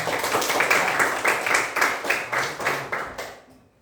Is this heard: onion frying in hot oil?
no